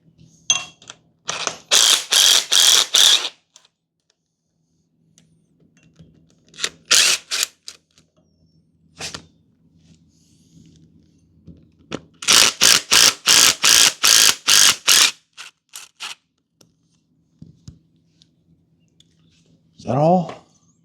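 Ratchet clicking in rapid bursts while water pumps are removed from a Flathead V8 engine in a workshop, several loud runs of tight clicks separated by pauses, with a low hum and brief speech.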